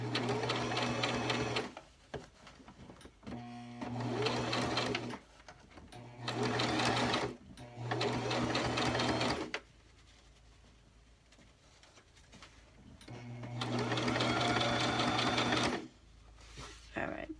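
Sewing machine stitching across elastic on a fabric face mask in several bursts of rapid whirring, separated by pauses where quiet handling noises and a voice are heard.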